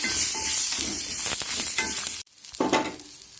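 Asafoetida, curry leaves and grated coconut sautéing in a hot pan, a bright steady sizzle with soft stirring scrapes, close up, then a sudden cut to quieter frying with a few spoon knocks.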